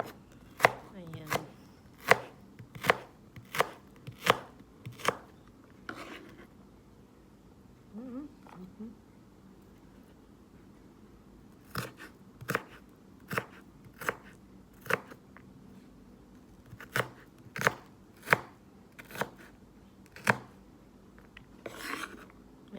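A knife slices asparagus on a cutting board in a home kitchen, giving a quick, steady run of crisp chopping strokes, then a pause, then a second run of evenly spaced cuts, fairly close and clear.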